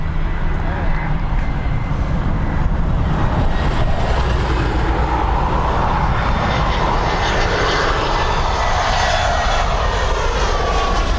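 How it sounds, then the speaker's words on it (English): An Airbus A320-200 on a Geneva to Dublin flight roars past Dublin Airport, a loud sustained jet engine rumble with wind buffeting the microphone, its pitch shifting as it passes. "EI681 Geneva to Dublin, Airbus A320-200, reg EIDEL."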